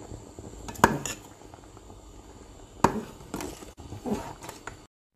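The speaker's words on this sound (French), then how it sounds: "N'hésitez pas à remuer votre plat de temps en temps" A spoon knocking against a pot while okra sauce for Senegalese soupe kandia is stirred, a few separate clinks and scrapes spaced out over several seconds, close and fairly quiet.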